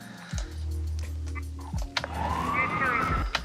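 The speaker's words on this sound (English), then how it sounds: "One is the police sirens and the radio communication." A police siren sounds close by, with short blaring horn tones followed by a rising electronic wail.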